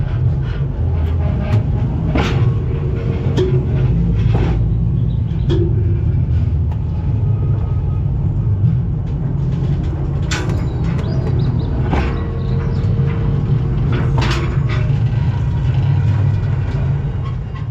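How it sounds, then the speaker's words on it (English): A freight train rolls slowly over a weighing system with a constant low rumble, punctuated by metallic creaks and clanks from wheels and couplings. "What we need to do now is send the train over the weighing system."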